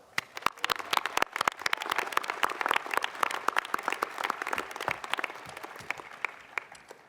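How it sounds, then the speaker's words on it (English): Audience applause at a college graduation ceremony, a steady stretch of many hands clapping with sharp, irregular individual claps standing out across the whole span, moderately distant and without talk. "please join us in a round of applause"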